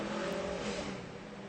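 A NASCAR Nationwide Series race car engine revs steadily in the garage at Kentucky during pre-practice tuning, a loud, dense roar holding a continuous tone throughout.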